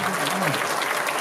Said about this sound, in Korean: 박수 한번 크게 격려해